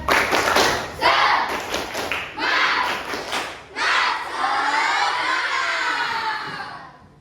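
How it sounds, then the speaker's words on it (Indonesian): In an Indonesian primary classroom, children clap out a rhythmic spirit chant together, with sharp bursts of group claps between loud shouted voices, close and energetic, then a sustained collective shout that fades. "kita tepuk semangat dulu ya anak-anak. Tepuk semangat."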